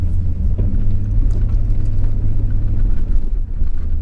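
A Kubota tractor plowing through 18 inches of snow, its engine a loud, steady low rumble close by as it pushes into a snow pile, with a few muffled thumps and no speech.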